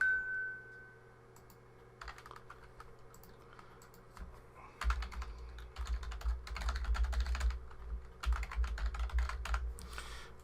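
Password keys clatter on a computer keyboard in rapid bursts of clicking, preceded by a brief soft tone, with steady low hum beneath.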